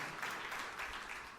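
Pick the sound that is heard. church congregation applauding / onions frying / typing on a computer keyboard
church congregation applauding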